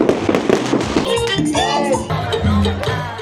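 New Year's midnight fireworks in Cuenca, Ecuador crackle and boom in a dense, continuous barrage, with crowd voices mixed into the noise.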